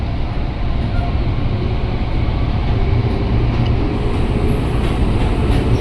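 A KRL commuter train on the Cikarang line runs steadily along the rails, a loud continuous rumble with faint rhythmic wheel clatter, close and unbroken, with no talking.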